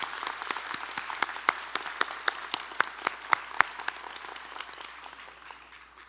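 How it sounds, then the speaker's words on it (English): Graduation audience applause inside the Apollo Theater at the 2022 HPHS ceremony, a sparse round of clapping with individual sharp claps standing out, swelling then thinning and fading over several seconds, no voices. "Please join me in a final round of applause."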